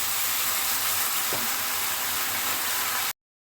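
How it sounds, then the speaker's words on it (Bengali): Coconut filling for patishapta sizzles steadily in a pan while being stirred, a loud, constant hiss of frying with a brief scrape partway through, ending abruptly. "এইভাবে জাল দিতে থাকবো আর নাড়াতে থাকবো"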